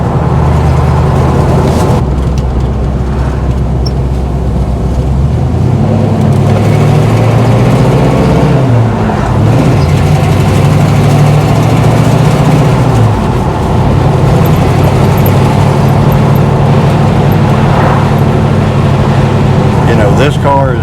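A 1977 Pontiac Trans Am cruises on the highway at low RPM, its engine a loud, steady low drone inside the car, shifting slightly in pitch as speed varies, with no one talking over it.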